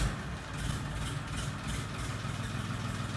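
A tractor engine idles steadily at a sales yard, a continuous low rumbling throb close by, with no voices over it.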